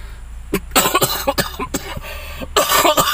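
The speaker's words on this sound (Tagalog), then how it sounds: "Naku, leche, ako inuubo na naman eh." A man coughs repeatedly in cold weather, a series of harsh, close bursts with short gaps between them, heard alone without speech.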